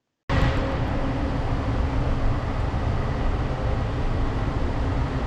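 Metro train in America running along the track, a steady broadband roar and rumble heard from inside the carriage, continuous and fairly loud with no voices.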